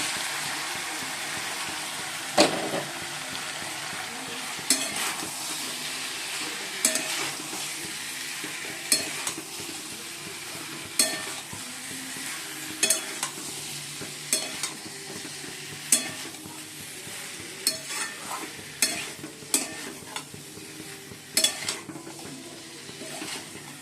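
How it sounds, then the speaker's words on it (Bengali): Papaya and potato stir-frying in spiced masala in a home kitchen pan, a continuous sizzle broken by regular sharp clinks and scrapes of a spoon against the pan, with a faint low hum beneath. "এবার এগুলো দিয়ে দেবো, পেঁপে আর আলু।"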